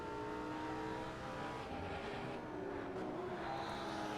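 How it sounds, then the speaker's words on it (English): A Nissan R34 with a big RB25 engine and a Mazda RX-7 race around Watkins Glen in a racing video game, heard as a steady, distant engine drone across the track that holds a constant loudness. "You can kind of hear the R34 and the RX-7 on the other side of the track."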